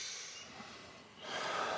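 In an ice bath, a person draws in a deep, audible breath that swells in the second half, after quieter, close breathing and a faint snort.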